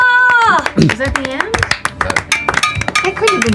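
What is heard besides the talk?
hands clapping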